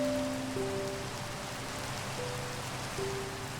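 Rain falling in the video game Minecraft, a steady, even hiss of pouring rain throughout, with faint game tones drifting in and out and no voices.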